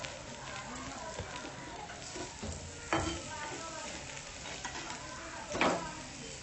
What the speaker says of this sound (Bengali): আর এক সাইড আমি খুব ভালো করে ভেজে নেওয়ার পর উল্টে দিচ্ছি, যেন দুইবারেই ভাজাটা হয়ে যায়